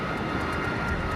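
An A-10 Warthog jet roars past in flight as a steady, loud, broadband engine rush with no break or talk.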